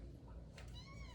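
A two-week-old newborn kitten gives a faint, thin meow, a single short rising cry that stands out over low background noise.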